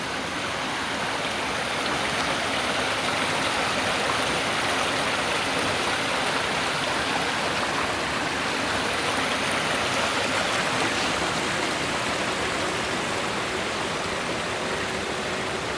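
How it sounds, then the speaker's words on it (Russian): Spring-fed pond water pouring through a drain built at a church pond, a loud, continuous rushing roar like a small waterfall, steady and close with no voices. "И вот как вода здесь идет через слив,"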